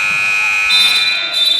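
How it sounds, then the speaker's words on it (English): A futsal half-time buzzer blares in a sustained, loud electronic tone at an FA women's futsal match, alone without talk. "the buzzer sounds for half-time"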